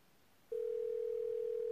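A telephone call tone on the line: a single steady, unbroken electronic note begins after about half a second and holds evenly at moderate loudness to the end, with no talk.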